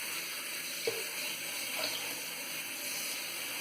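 Water runs steadily from a tap into a shaving lather bowl, a constant rushing hiss with no speech.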